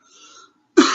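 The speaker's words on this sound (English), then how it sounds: "Sorry for the coughing." A single loud, sharp cough bursts out close to the microphone after a brief quiet pause, ending the short moment during a math lesson on the chain rule.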